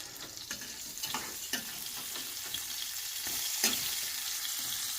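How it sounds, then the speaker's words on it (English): Breakfast frying in butter on a pan, a steady close sizzle with occasional scraping and tapping of a utensil, growing slightly louder toward the end. "Hear that sizzle."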